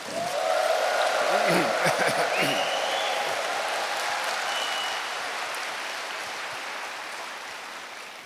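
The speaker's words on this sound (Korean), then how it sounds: "우레와 같은 큰 박수 부탁" Thunderous audience applause at a humanities lecture in a hall, a loud dense wash of clapping that swells early and then slowly fades, with a voice briefly calling out over it near the start.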